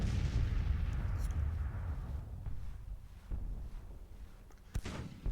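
Artillery fire in the Grand Tactician Civil War strategy game, a rumbling low boom that fades over a couple of seconds, followed by distant muffled thuds and a sharper crack near the end, fairly faint.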